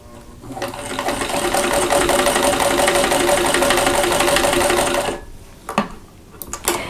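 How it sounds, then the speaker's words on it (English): A sewing machine stitching quilt block pieces together runs in one steady close whirring hum for about five seconds, then stops, followed by a few light handling clicks. "put a pin in, and then go ahead and sew this together."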